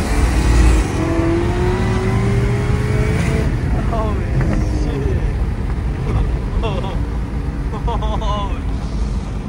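A Chevrolet Corvette C6 engine revs hard and climbs through the gears, loud and close, with rising and falling pitch sweeps and pops from flames shooting out the exhaust, as people talk over it.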